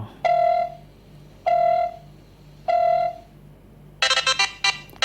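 A ringtone plays loudly through the built-in speaker of a Nova N15i phone: three evenly spaced electronic tones, then a quick run of bright melodic notes, close with no talk.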